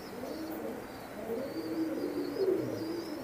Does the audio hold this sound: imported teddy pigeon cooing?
yes